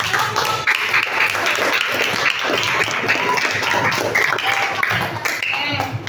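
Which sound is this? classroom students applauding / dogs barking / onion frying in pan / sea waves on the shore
classroom students applauding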